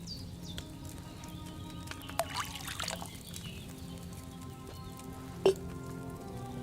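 Wine poured from a pitcher into a cauldron in the Kingdom Come 2 video game: a soft, steady trickling patter running throughout, with a faint clink partway through and a sharper knock near the end.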